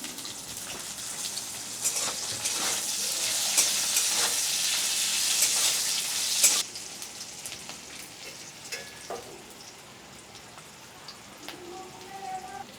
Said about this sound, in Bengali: এতে আমি এখন পেঁয়াজ আর লঙ্কাটাও দিয়ে দিচ্ছি।